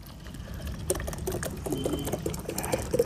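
Water is poured into the tank of a STARQ QT-30 car wash foam machine, producing a close, steady patter and splashing that swells slightly toward the end.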